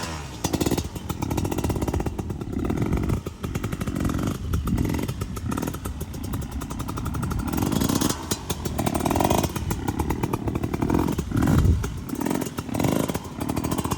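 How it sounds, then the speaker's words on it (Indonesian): A trail motorcycle engine, standing still, revs gently and repeatedly in short bursts, rising and falling in a rough, buzzing tone up close, with no talking. "Yang dimaksud motor lembut itu seperti ini lor."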